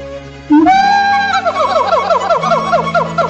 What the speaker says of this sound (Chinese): 但有种猴子是这样叫的。